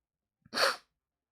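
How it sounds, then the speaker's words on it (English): A single sharp sneeze, close and fairly loud, preceded by a brief quick inhale, then silence. "got to sneeze."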